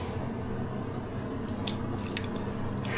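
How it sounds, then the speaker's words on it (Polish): Water poured in over hams set for scalding during home smoking, a steady gurgling and dripping with a few sharper splashes, close and continuous. "Trochę dolejemy wody."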